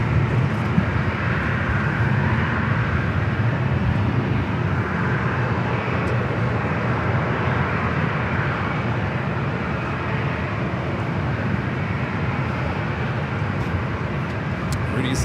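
A Lufthansa Boeing 747 jet departs LAX bound for Frankfurt, its engines a broad, steady distant roar that holds level throughout, with a voice talking over it.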